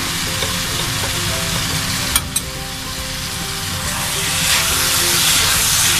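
Grated carrots sizzle and fry in ghee while being stirred for gajar halwa, a continuous close hiss with a few sharp clinks of the spoon partway through.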